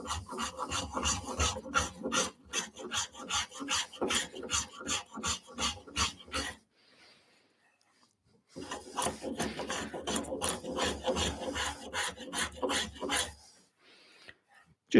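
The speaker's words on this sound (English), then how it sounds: "So I'm going to go different spoke shave. I've set it up a bit heavier." Spokeshave set up for a heavier cut shaving wood on a side table part, close rhythmic rasping strokes in two quick bursts with a short quiet pause between them.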